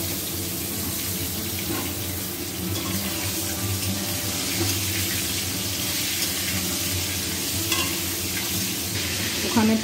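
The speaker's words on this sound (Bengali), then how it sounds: "ওখানে পটলটা ভাজা হচ্ছে" Pointed gourd (potol) fries in oil in a pan, a steady, close sizzle and crackle running continuously with occasional faint clinks, alone without talk.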